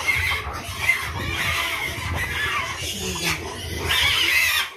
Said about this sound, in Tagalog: Kumakain na po namin yung inahing baboy.